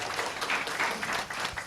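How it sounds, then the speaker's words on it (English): Short burst of audience applause for the speakers at an Indonesian forum on data governance and online trust, dense clapping with a voice faintly underneath. "one round of applause untuk para narasumber kita"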